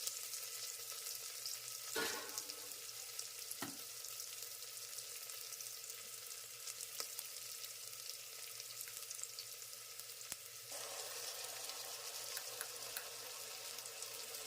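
Onion and ginger-garlic paste frying in oil in a pan. A quiet, even sizzle holds for the whole stretch, broken by a few sharp clicks of stirring and a slight rise in the hiss near the end.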